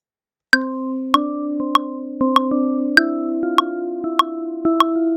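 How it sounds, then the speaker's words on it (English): Sharp regular metronome clicks keep time under a simple melody of sustained synth tones in Ableton Live, each click clear and evenly spaced, no voices. "let's listen one more time with the click"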